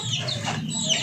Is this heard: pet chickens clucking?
yes